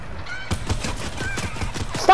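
A chicken in the video game Fortnite, with repeated honking, clucking calls close by over a busy run of footsteps and thuds.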